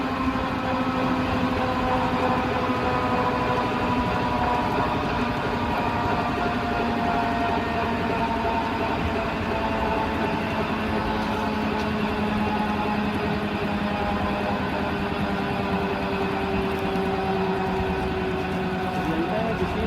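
A commercial flywheel energy machine winds down after its power is cut, a steady low mechanical hum with whirring tones that slowly sink in pitch as the wheels lose speed.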